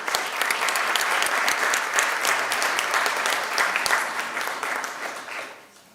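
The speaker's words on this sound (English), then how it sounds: "Everyone, a big round of applause." Audience at a US–India jewelry industry trade symposium gives a sustained round of applause, dense steady clapping from a large crowd that holds for several seconds, then tapers off at the end.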